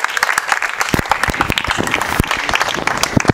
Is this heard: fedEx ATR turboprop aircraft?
no